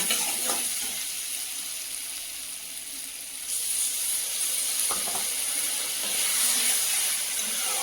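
Water splashed into oil-fried spice paste for a Bengali fish chorchori, setting off a loud, steady sizzle and hiss that swells again partway through, with no one talking.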